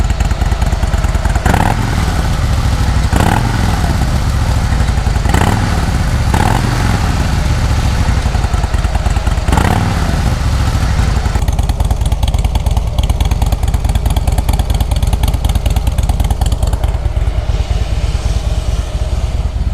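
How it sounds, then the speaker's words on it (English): A Harley-Davidson Fat Boy motorcycle engine idles with a steady, loud low rumble, punctuated by a few louder throttle blips early on, then settling into an even chug. "So that's the sound of the engine."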